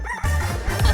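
A stage performer's voice imitates a rooster crowing, a short, close, strident burst lasting under a second.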